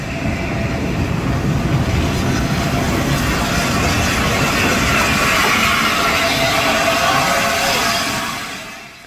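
The Tornado steam locomotive runs past on the Severn Valley Railway, a loud, steady rumble and rolling clatter of wheels on track, close by and sustained before easing off at the end.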